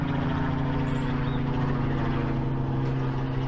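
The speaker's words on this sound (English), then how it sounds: "whenever we're doing videos, a helicopter or a plane comes across" An aircraft, a helicopter or plane, passes over Frensham Great Pond, giving a steady, fairly loud droning hum with no talk.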